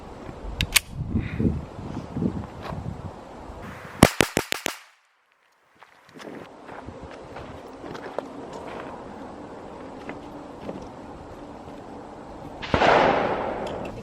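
A Smith & Wesson Shield handgun fired at an outdoor range on a hot day, a rapid string of several sharp close shots followed by a pause and further scattered handling noise.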